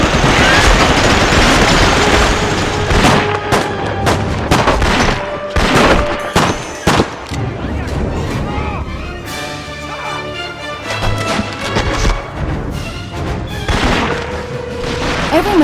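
Machine gun fire and blasts from the World War II shooter Medal of Honor: Rising Sun, dense loud bursts of gunfire mixed with booms and battle noise, with game music and effects layered throughout.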